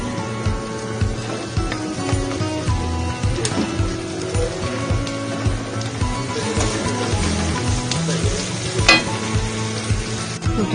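Carrots stir-fried in a wok with oil while making chowmein noodles give a steady sizzle with occasional stirring scrapes, running continuously at close range under tonal background sound.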